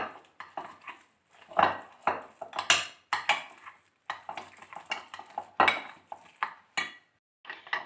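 Fish masala paste being mixed with a utensil in a bowl, giving close, irregular scraping, clinking and squelching strokes that come in bursts with short pauses between, with no voices.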